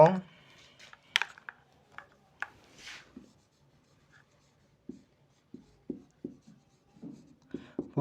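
Pen scratching on paper while working through a set-theory maths exercise, short separate scribbles and strokes with pauses between them, close and fairly quiet, with a voice speaking at the start.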